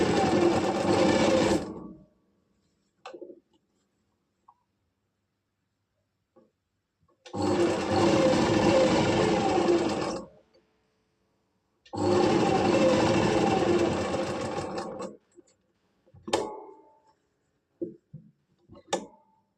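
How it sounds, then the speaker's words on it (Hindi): A sewing machine runs in three long bursts of fast, steady whirring while double stitching a kameez, separated by quiet pauses and ending with a few short taps and clicks. "इसको हम डबल स्टिच कर लेंगे।"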